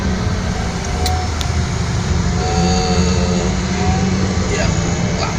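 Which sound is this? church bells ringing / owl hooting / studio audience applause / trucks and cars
trucks and cars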